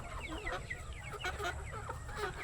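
Native Darag chickens and other farm hens cluck and chatter together in a busy, continuous chorus on a Philippine farm, moderately distant and fairly quiet.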